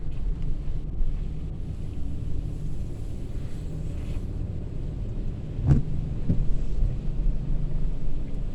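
Wind buffets a microphone on a rainy day, a steady low roar and rumble with a brief louder gust partway through and no talking.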